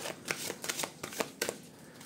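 A deck of playing cards is handled and cut, giving several quick, soft papery riffling bursts in an irregular rhythm, close and faint in a quiet room.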